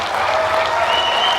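An audience at a charity auction breaks into dense, steady applause, many hands clapping together at close range with no voices standing out.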